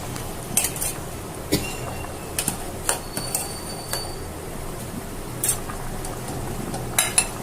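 Kabuli chana with spices is stirred in a pan, a spoon scraping and knocking against metal in irregular close strokes over a faint steady sizzle, without any talking.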